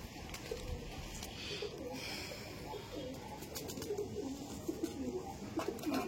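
Home-bred loft pigeons coo in repeated low, rolling calls, several birds overlapping close by against a steady background murmur.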